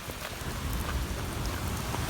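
Steady rain mixed with falling ice pattering on a surface with crisp, scattered impacts, a constant dense hiss without voices, in the UAE.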